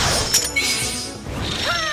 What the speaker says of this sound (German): Eine Ei-Explosion.